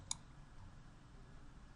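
A single sharp computer mouse click, made while pressing an edit button in ZebraZapps authoring software. It snaps once near the start and then gives way to a quiet, steady room hiss.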